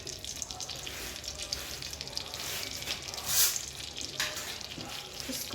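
Oil heating in a pan for butter chicken gives a faint, steady sizzling hiss with a few soft clinks, close by and fairly quiet throughout.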